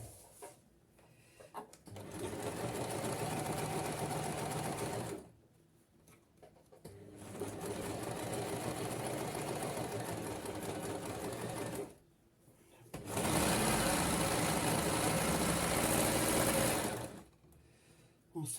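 A domestic sewing machine stitches fabric for a blouse in three long, steady whirring runs separated by short pauses, close and fairly loud, with no talking over it.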